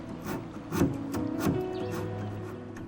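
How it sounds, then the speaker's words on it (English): Steady rubbing of a contour sanding block with 150 to 180 grit sandpaper across a 1930s Art Deco wooden dresser, a close scratchy rasp with a few stronger strokes, continuous for a few seconds. "I'll complete the detailed sanding using these contour sanding blocks"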